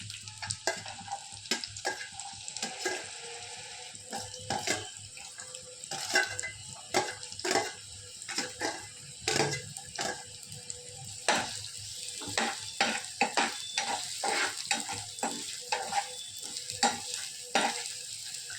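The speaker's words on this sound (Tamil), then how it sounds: "வெட்டின வெங்காயத்தை சேர்த்துக்கலாம்" Chopped onions fry in hot oil in a pan, a quiet steady sizzle punctuated by many clattering spatula scrapes and taps against the metal, growing busier toward the end, with no speech.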